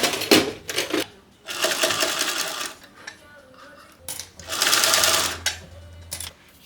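A sewing machine fitted with a zipper foot stitches piping onto a bag, running in close bursts of rapid mechanical whirring with short pauses between runs.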